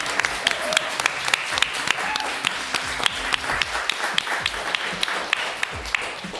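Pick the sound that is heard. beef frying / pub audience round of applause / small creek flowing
pub audience round of applause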